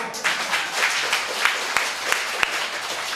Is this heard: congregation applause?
yes